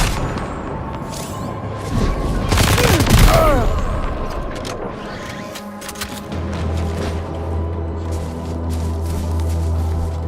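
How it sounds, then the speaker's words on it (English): Gunfire in the video game Death Stranding 2 as a player shoots an enemy, a dense burst of shots peaking early then trailing into a steady low hum and game ambience. "I'm gonna just shoot this dude."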